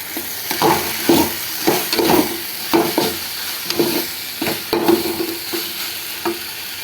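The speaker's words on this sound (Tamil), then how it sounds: "கொஞ்சம் மஷ்ரூமை நல்லா வதக்கி விட்டுட்டு" Mushrooms sautéing in a pan for mushroom gravy, with a spatula stirring them in a regular rhythm of about two scrapes per second over a steady sizzle, close and fairly loud, with no voices.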